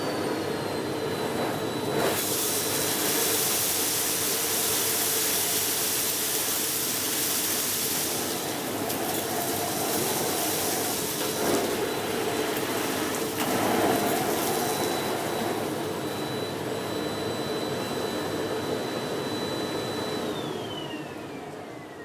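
A Miele CX1 Blizzard Comfort Powerline canister vacuum cleaner runs in carpet mode, a loud steady whine with a broadband rush of suction that holds for the whole stretch, with a brief pitch shift near the end as the power changes.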